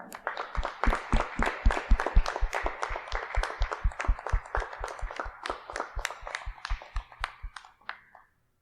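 A church congregation clapping together in a steady rhythmic beat, many hands in unison at a brisk even pace for several seconds before stopping, with no talking over it.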